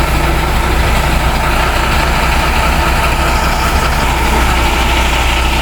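A cement mixer truck's engine runs at a house construction site, a loud, steady, close rumble that holds without a break for the whole stretch, with no voices.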